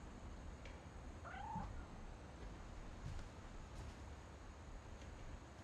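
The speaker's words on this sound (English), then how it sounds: "I heard a cat. I swear I heard a cat." A cat meows once in the video game What Remains of Edith Finch, a short faint call standing alone over a steady low hiss of background ambience.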